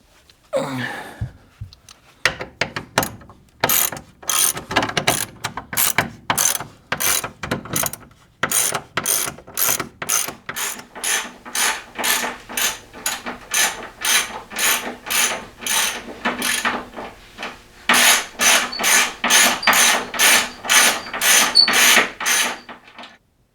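A ratchet wrench loosening bolts on a workbench clicks in steady, rapid bursts of pawl ratcheting, close and loud, with brief pauses between strokes and no talking.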